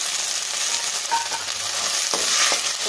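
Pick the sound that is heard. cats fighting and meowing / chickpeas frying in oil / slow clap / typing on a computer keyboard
chickpeas frying in oil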